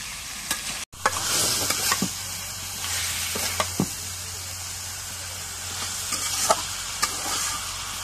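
Fish heads frying in a spice paste, a constant loud sizzle with scattered scraping stirs and clicks of a spatula on the pan.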